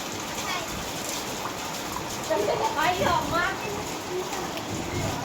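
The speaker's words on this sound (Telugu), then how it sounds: "వాటర్ ఎలా అవుతుందో చూడండి, వర్షం ఎలా వస్తుందో" Steady rain falls in Dharmavaram, with water running near a sluice, making a dense, continuous hiss and patter that stays loud throughout while someone talks over it.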